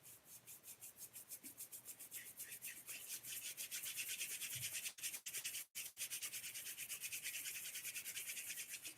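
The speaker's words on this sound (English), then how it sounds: "Rubbing the palms and the hands together." Palms of two hands rubbing together briskly in a quiet room, a long run of soft rhythmic swishing strokes with a couple of brief pauses.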